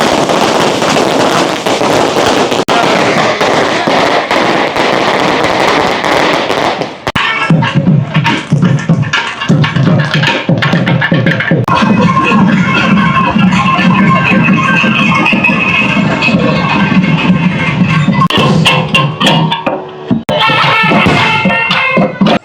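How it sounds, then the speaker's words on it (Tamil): Fireworks burst and crackle at a temple festival for Vinayagar and Murugan, with a dense run of loud pops and bangs that continues through the whole stretch against a constant crowd-like background. "அதோட வான வேடிக்கை இடம்பெற்று கொண்டிருக்கிறது."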